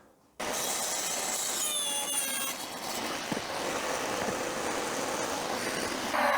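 A power saw trims a wood floor panel for the rear floor of a minivan camper conversion, running steadily and loudly for several seconds with a rough, grinding cutting tone and no talk.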